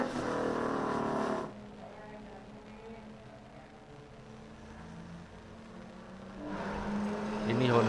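A Honda race car tears past at full speed on the Mandalika circuit, a loud engine burst at the start and another rising near the end, with quieter stretches between and voices talking.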